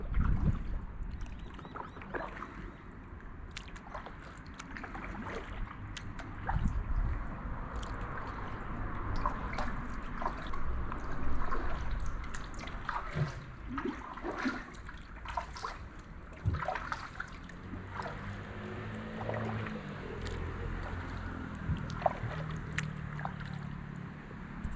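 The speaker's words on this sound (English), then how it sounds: "Paddling for about an hour" A very small kayak paddled along a creek: faint, irregular splashes and drips of paddle strokes in water over a soft background hush, continuing steadily with no talking.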